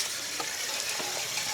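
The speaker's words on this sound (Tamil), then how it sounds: "நீங்கள் அப்படியே வதக்கி விடுங்க." Chicken gizzard biryani masala sizzles and sputters in a hot pan, with a steady, close frying hiss and a few soft stirring clicks.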